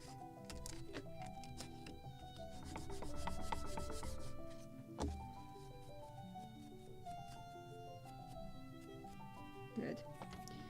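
A small wooden part for a 1776 gunboat Philadelphia model ship kit is sanded to round its edges, with close, light rubbing strokes beneath a steady bed of music.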